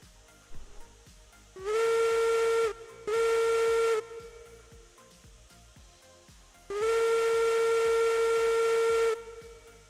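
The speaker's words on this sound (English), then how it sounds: "Let me just blow a whistle and see if you can hear it." Steam train whistle blown in a video game, three loud sustained blasts, two shorter ones close together then a longer one, over a quiet rhythmic background.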